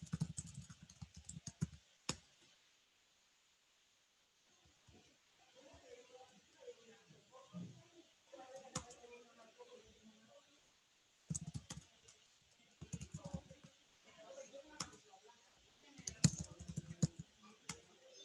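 Typing on a computer keyboard comes in bursts of rapid clicks with pauses between them, close and clear. In the gaps, quieter stretches carry faint rustling and low talk in the background.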